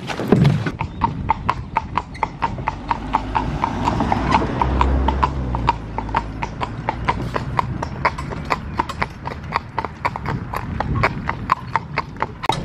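Horse hooves clip-clop steadily at a brisk, even rhythm while the horse pulls a cart, loud and close throughout, with a faint voice briefly audible at the start.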